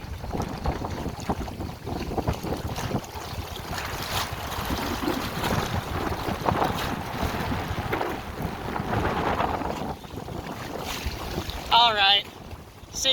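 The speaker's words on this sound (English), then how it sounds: "Never seen waves this big on a 40-acre lake." Wind gusting across a 40-acre lake at Inman Lake, Kansas, with big waves washing and churning steadily; a continuous rough rush of water and buffeting wind noise on the microphone fills the scene.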